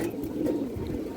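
A silver bezi pigeon pair cooing softly and continuously at close range, the low murmuring coos rising and falling over a short stretch.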